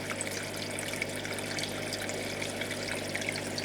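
A Tunzi 902 nano protein skimmer runs in a River and Reef 94-litre reef aquarium, giving a steady trickling, bubbling water sound over a constant low pump hum, with no talk.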